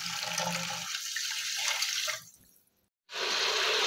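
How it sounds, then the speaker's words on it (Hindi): Water poured into a pot holding sugar, oil and cardamom pods to make sugar syrup: a steady splashing pour that tapers off to brief silence, then another burst of liquid sound follows. "अब मैं पानी शामिल करूँगी"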